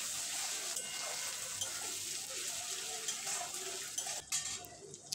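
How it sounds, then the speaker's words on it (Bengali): Onions and ginger-garlic paste sizzling in a pan while being stirred for a Bengali prawn and potato curry, a quiet steady hiss with light scraping and clinks of the spoon toward the end. "কিছুক্ষণ নাড়বো যাতে আদা রসুনের যে কাঁচা গন্ধ সেটা চলে যায়"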